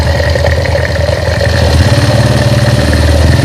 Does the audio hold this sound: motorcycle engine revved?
yes